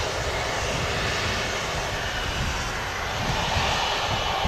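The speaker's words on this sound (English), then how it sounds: "I'm going to guess this EasyJet's going to hold short of the runway for a while." Steady, loud broadband roar of EasyJet airliner jet engines at Manchester Airport, a continuous rushing drone that holds level throughout with no voices.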